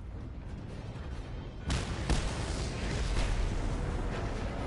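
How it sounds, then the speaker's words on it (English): A quiet rumble suddenly gives way to a loud, booming blast that keeps roaring and crackling, like a big synthetic explosion in a game. "Let's make it go boom."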